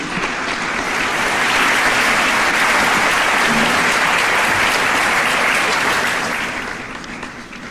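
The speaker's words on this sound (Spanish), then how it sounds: "Un aplauso para el Señor." Sustained applause from a gathered audience at an ecumenism symposium in Nicaragua, welcoming the Apostolic Nuncio Monseñor Fortunatus; dense, steady clapping that swells, holds loud for several seconds, then tapers slightly toward the end.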